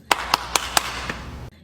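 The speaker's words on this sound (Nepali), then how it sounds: "ताली" Five sharp hand claps land in a quick, fairly even burst over a low background hum, then stop abruptly.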